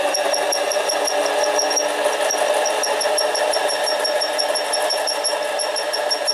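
A Harbor Freight 7x10 mini lathe spins up while taking a very light cut on an aluminum tube, giving a steady, close motor whine with high tonal harmonics and a continuous mechanical hum, no voices.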